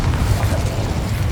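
Fire-spell blasts from Confringo in Hogwarts Legacy roar as a loud, continuous low rumble of booming bursts with crackling noise, no voices over it.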